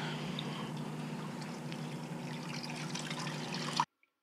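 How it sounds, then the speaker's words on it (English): Tap water runs steadily into a kitchen sink while a raccoon hide is washed with dish soap, a continuous close splashing pour that stops abruptly near the end. "we're going to wash it off in the sink with Dawn dish soap"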